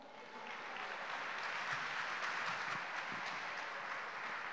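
Church congregation applauding during a worship celebration, a soft, steady wash of many hands clapping that swells slightly and holds, heard faintly from a distance.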